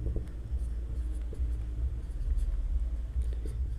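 A pen scratches out working on paper for a school geometry problem, a close, continuous writing rustle over a low background rumble.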